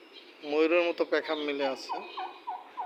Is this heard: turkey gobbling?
yes